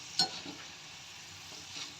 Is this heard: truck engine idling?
no